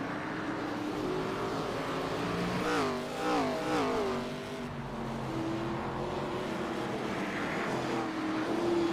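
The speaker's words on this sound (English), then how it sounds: "definitely just running these cars as hard as they can, definitely putting on a show." Pro Cup Series race cars running hard at Hickory, engines revving and sweeping up and down in pitch as cars pass, a loud continuous roar throughout with no talking.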